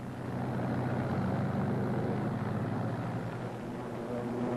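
WWII P-38 and Mustang fighter planes are underway with a steady, dense propeller-engine roar, loud and continuous with no breaks and no voices.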